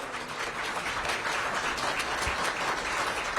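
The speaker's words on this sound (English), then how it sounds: "Let's give them a round of applause" An audience gives a steady round of applause for McKinley Tech High School students at a mayoral signing event, moderately loud dense clapping with no pauses.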